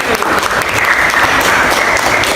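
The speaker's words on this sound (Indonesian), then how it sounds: "Tepuk tangan untuk kelompok 1." A classroom of students clapping together for a group, dense steady applause filling the room at close range, loud and continuous throughout.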